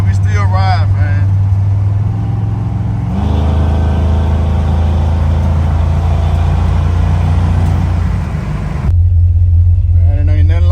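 An old-school car with its top up cruises along, a loud steady engine drone and road rumble filling the cabin, the pitch shifting partway through, with someone talking over it at the start.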